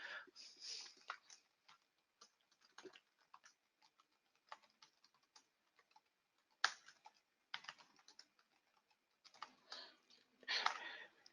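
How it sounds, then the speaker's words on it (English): Typing on a computer keyboard, scattered bursts of quick light key clicks with pauses between them, close and fairly quiet, no talking. "you can just type in a subject line"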